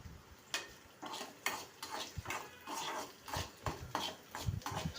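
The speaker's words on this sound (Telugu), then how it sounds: "స్పూన్తో తిప్పుకుంటా వేయించాలి." Onion fries in a pan while a spoon stirs it, scraping and clinking in rhythmic strokes about every half second over a soft background sizzle, fairly quiet and close.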